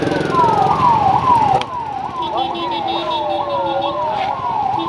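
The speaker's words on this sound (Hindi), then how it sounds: "तो आपको पीछे सायरन सुनाई दे रहा होगा" A civil defence siren wails during a mock-drill blackout in Patna, its pitch sweeping repeatedly up and down, steady and fairly loud over background street noise.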